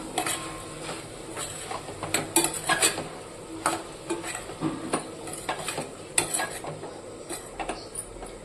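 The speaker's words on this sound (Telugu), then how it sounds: "ముందుగా కట్ చేసి పెట్టుకున్న దొండకాయలను దీంట్లో వేసుకుందాం" Ivy gourd is stirred into mutton keema in a pan, giving close, irregular scraping and clinking of a spatula against metal over a faint sizzle.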